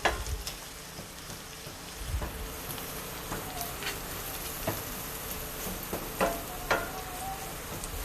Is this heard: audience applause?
no